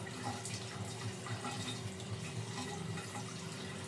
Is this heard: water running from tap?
yes